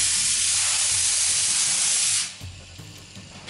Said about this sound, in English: I'm gonna light it up with the battery, compressed air to give it a proper speed.